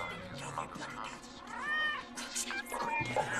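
A cat meows loudly and insistently in a drawn-out, wavering cry, with other voices and background noise mixed in around it.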